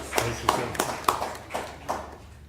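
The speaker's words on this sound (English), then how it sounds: "Deserves an applause." A few scattered hand claps from the audience at a city mayor and council meeting, sparse and uneven, with a handful of distinct claps over a quiet room.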